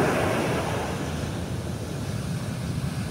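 Rough sea during bad weather at Paratong, Bangar, La Union gives a continuous, loud roar of surf and crashing waves, with wind rushing against the microphone and no voices.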